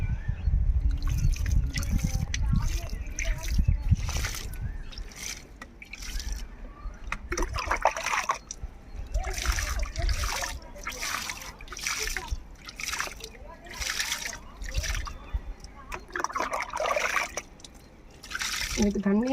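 Water is poured from a container onto soil in a pot holding a newly planted apple or amla sapling, with gurgling splashes and trickles in bursts, close by, while someone talks over it.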